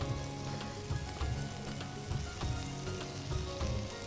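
Turkish lamb chops fry in a pan with a dense, continuous sizzle and crackle, close up and fairly loud, with occasional stirring or shifting sounds and no voices.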